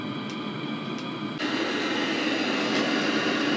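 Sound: Webasto 5 kW heater running

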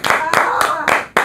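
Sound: people clapping for Liz

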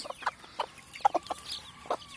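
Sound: mother hen calling her chicks

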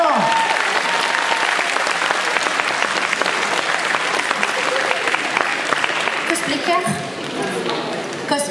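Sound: audience applause

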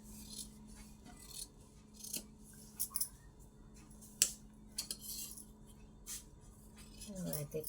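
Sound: scissors cutting cloth at the neck of a blouse

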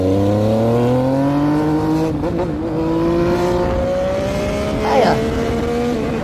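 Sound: motorcycle riding off, engine revving

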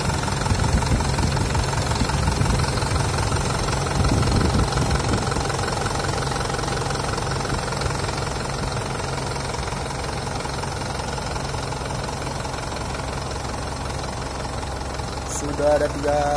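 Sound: Hino Dutro 136 HDX truck diesel engine idling

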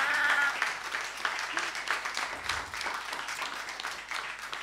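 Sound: audience clapping at a conference session

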